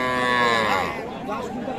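A Sahiwal cow at a village cattle market in Dinajpur lets out a single loud, close moo of under two seconds, its drawn-out call slowly fading at the end.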